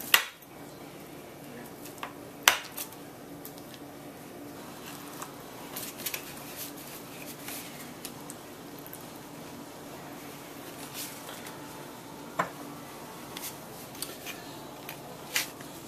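A knife or utensil cuts into a rested shepherd's pie in its baking dish, giving sparse, quiet clinks and scrapes against the dish over a faint, steady background.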